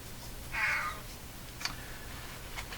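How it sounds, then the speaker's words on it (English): A cat meows once, close and fairly clear, in an otherwise quiet room, with a few faint clicks afterward. "We'll end the video with my cat trying to convince me to do something."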